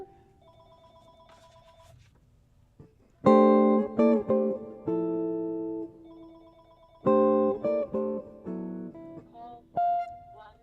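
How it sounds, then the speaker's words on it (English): Bell-like electronic tones ring out in the background during a live stream: clear pitched chiming notes in short phrases, quiet at first and then louder, repeating in bursts with gaps between. "I can hear bells ringing in the background."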